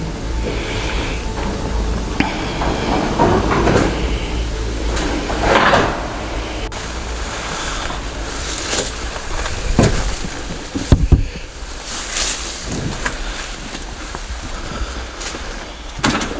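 An old door in a disused building is pulled shut, with creaks and a scraping slide followed by a heavier knock near the end, close and fairly loud against a noisy background.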